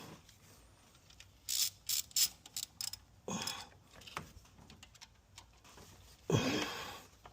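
A ratchet snugs down the ignition coil bolts on a 2015 Chevy Tahoe with several short bursts of quiet clicking. Faint metallic handling noises sit between the bursts in an otherwise quiet setting.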